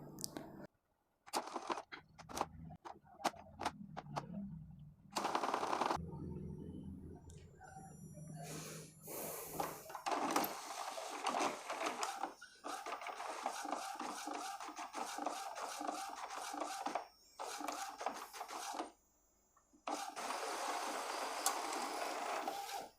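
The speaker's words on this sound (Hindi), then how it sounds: "जब भी एप्सन का कोई भी प्रिंटर ऑन होता है तो थोड़ा सा उसका सॉफ्टवेयर में टाइमिंग लेता है प्रिंट होने से पहले" An Epson L-series inkjet printer powers up and prints a page, with whirring mechanical feed and print-head passes in bursts separated by brief pauses, close and fairly loud.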